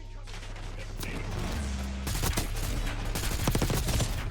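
Suppressed AMES 85 rifle with a monolithic suppressor in Black Ops 6, firing in bursts of muffled rapid shots among dense in-game battle noise, getting heavier in the second half.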